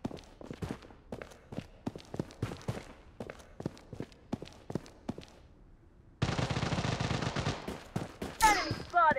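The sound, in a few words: gunfire in video game Bloodstrike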